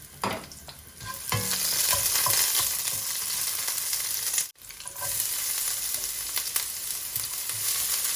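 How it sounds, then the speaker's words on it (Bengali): Garlic and fenugreek seeds fry with potatoes for a Londoni-style aloo bhaji, a steady close sizzle with stirring scrapes and a brief break midway, no voices. "রসুন দিলাম কয়টা মেথি সিড দিলাম আলু ভাজির মাঝে"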